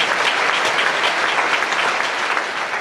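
A church congregation applauds during a Korean deaf-ministry sermon, loud, dense clapping from many hands that holds steady throughout with no voice over it.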